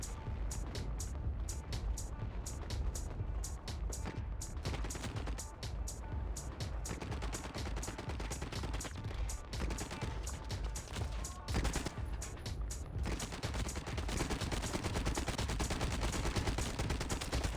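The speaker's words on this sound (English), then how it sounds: "Gunfights are so intense in the game." Rapid gunfire in the World War 1: Firestorm video game: dense bursts of rifle and machine-gun shots crackle without letup, sharp cracks overlapping in an intense firefight that runs throughout.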